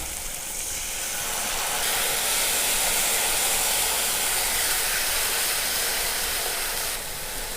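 Ground spice paste hits a hot pan and sizzles, a loud, close, steady broadband hiss that holds evenly for several seconds with no talking.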